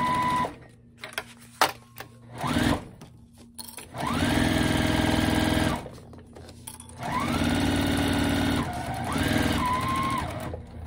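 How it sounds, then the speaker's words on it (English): A sewing machine stitches straight down the sides of a fabric car trash bag, starting with short clicks and stutters, then running in two long loud, steady hums close by. "now we're just gonna sew down the sides"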